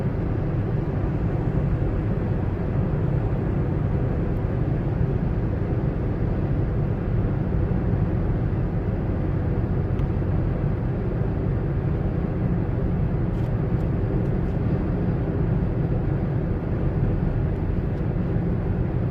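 Suzuki WagonR Stingray picking up speed on a highway, a steady, loud broadband drone of engine, tyre and wind noise that holds evenly throughout with no voices.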